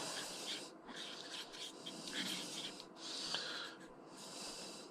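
A Q-tip rubbing sand off the base of a Kastking Spartacus II fishing reel, a faint, continuous close-up scratchy rubbing in short strokes, with no voices.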